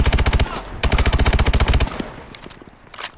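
AK-12 assault rifle in the shooter Call of Duty: Advanced Warfare, firing two loud, close, rapid automatic bursts in steady rhythm with a short gap between them, then fading into quieter game ambience.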